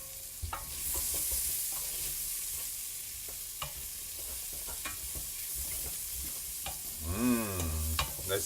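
Spices sweating in a pan over low heat for a beef and potato curry, a soft steady sizzle with occasional stirring clicks and scrapes, fairly quiet and close, ending in a brief scraping burst.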